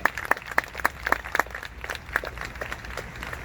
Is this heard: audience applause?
yes